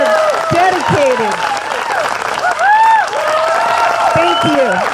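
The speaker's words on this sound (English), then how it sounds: "Will you all join me in a round of applause for these people who are dedicated?" Audience applause at a graduation ceremony, steady clapping from a seated crowd that runs throughout, with people talking and calling out loudly over it.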